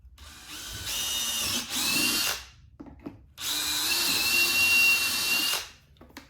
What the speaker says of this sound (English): give that a quick drill through